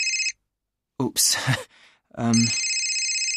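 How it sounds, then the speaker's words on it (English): A telephone rings in short electronic bursts, with a pause between them, while a person reacts with brief speech in between the rings. "That's my phone."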